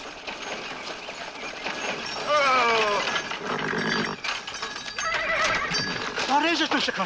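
A horse whinnies several times, loud and close, with shrill shaky calls over hoof clatter and low voices.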